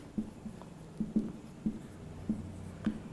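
A marker writing on a whiteboard during a math lesson: several short squeaky strokes in an irregular rhythm, fairly quiet and close, with no talking.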